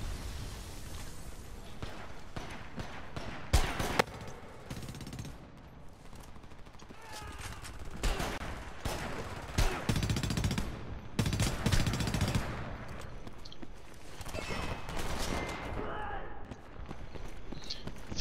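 Rapid bursts of gunfire and automatic weapon rattle from the video game Homefront come in dense, overlapping volleys with loud impacts, while voices talk over the shooting throughout.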